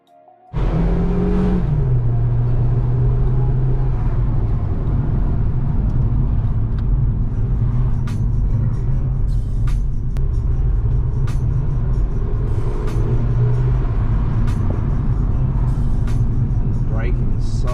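A Toyota GT4 being driven: a loud, steady engine drone and road rumble start abruptly and hold for the whole stretch, with a shift in engine tone early on and voices talking over it.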